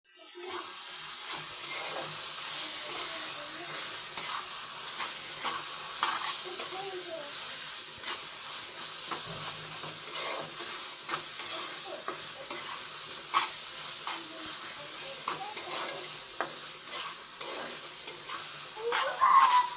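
Red amaranth greens frying in a pan with tempering spices for a Bengali lunch, with a steady close sizzle and repeated scraping stirs of a spoon throughout.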